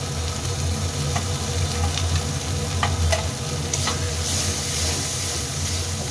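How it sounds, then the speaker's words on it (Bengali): Spice paste of soaked, fried and ground dried chillies with sugar sautéing in a pan for spicy pointed gourd malai curry, a loud steady sizzle and hiss with scattered stirring scrapes. "মশলাটা কষানো হয়ে গেছে"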